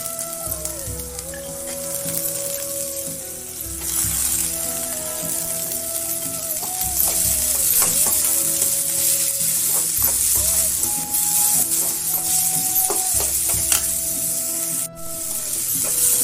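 Tomato and dal being sautéed in oil while making Kolhapuri-style kurdu greens, a steady close sizzle and spattering with occasional utensil scrapes and tones from the kitchen, continuous throughout.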